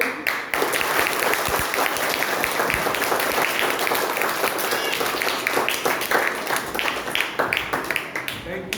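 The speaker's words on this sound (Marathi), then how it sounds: "आता मम्मी पप्पांनी तुमच्यासाठी टाळ्या वाजवा." Parents at a school parenting workshop in Chhatrapati Sambhajinagar applaud their children, a loud, sustained roar of many hands clapping from a crowd, continuous for several seconds with voices faintly mixed in.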